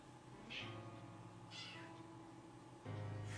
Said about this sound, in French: Ta gueule de chat.